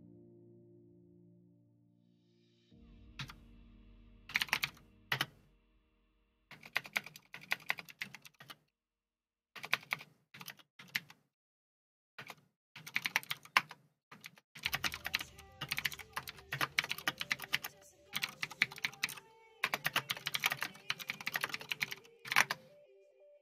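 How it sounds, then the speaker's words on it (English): Bursts of typing on a computer keyboard, close and fairly loud, in irregular clusters separated by pauses, with a faint low hum at the start and no talking. "Sorry, I was typing to Zach's"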